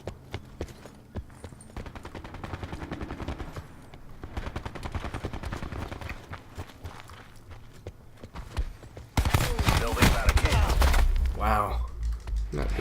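Black Ops 4 gameplay with diamond pistols: rapid bursts of gunfire crackling in quick succession, growing louder and denser toward the end, with speech in the background.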